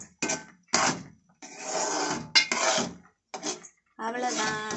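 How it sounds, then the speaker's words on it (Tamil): A spoon scrapes and clatters in a pan, stirring thick kesari with fried cashews and raisins. The clear scraping strokes come in short bursts separated by brief pauses. "வறுத்து வச்ச முந்திரி கிஸ்மிஸு சேர்த்து நல்லா கிளறி விட்டுக்கிறோம்"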